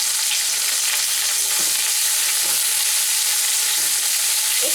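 Finely chopped onions fry with bay leaves and dried red chilies in a pan, making a loud, steady hiss and sizzle with a few soft stirring knocks and no voices.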